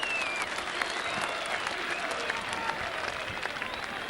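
Crowd applauding and cheering steadily after a rugby league score in a Whitehaven versus Workington match, a dense, sustained roar of clapping from a large stadium audience with a commentator's voice faintly underneath.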